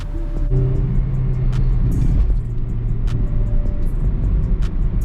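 A small car is driven along, its engine giving a steady low rumble and drone close by throughout, with no one speaking.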